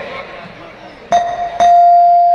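A bell dings during a comedy stage show's pickup-line game, two sharp strikes followed by a sustained ringing tone, close and loud over crowd chatter.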